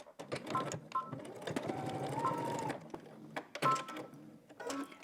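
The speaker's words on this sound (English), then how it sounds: "stitch it while we're at the machine. Okay, make sure to back stitch at the beginning and at our dot" A home sewing machine stitches a pocket onto a garment in bursts of rapid whirring, with short back-stitch runs and clicks between stops, close and clear.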